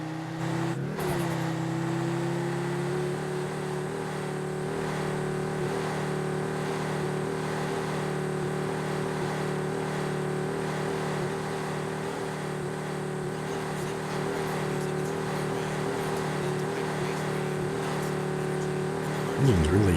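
A Ford Mustang engine revs hard and steadily against the rev limiter, a loud sustained drone with a faint stutter that runs close and continuous for the whole stretch, with a brief extra burst right at the end.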